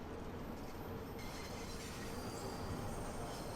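A London Underground Bakerloo Line train in Train Sim World 2 runs at about 30 mph, giving a steady, loud rumble of wheels and motors that continues throughout with faint rail clatter.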